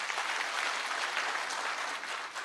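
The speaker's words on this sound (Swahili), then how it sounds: "Pigeni makofi DG again." Crowd applause at an outdoor security forum in Kisii County, a steady dense clapping that fills the whole stretch, fairly loud and without any voice over it.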